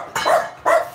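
A dog gives two sharp, close, loud barks in quick succession, with a short pause between them and no talking.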